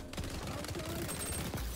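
Rapid bursts of gunfire from the shooter game XDefiant, likely a Vector SMG, crackling in quick repeated shots throughout a short, busy stretch of firefight.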